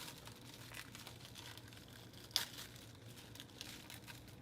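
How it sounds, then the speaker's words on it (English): Plastic wrapping crinkles as it is peeled off a Kyosho Inferno Neo 3.0 nitro RC car, a faint, steady rustle with one brief sharper crackle midway. "Let's take this nice little plastic off."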